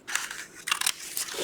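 Scissors snip through fabric being cut for a junk journal pocket, with several short, crisp close-up cuts in an uneven rhythm.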